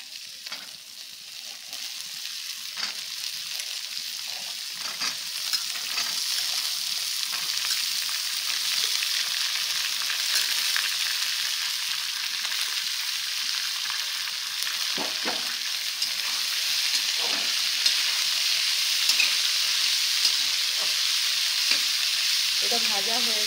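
Finely chopped carrot sizzles steadily in an oil-filled pan for a home vegetable dish, a continuous close frying hiss broken now and then by faint stirring clicks, with no talk.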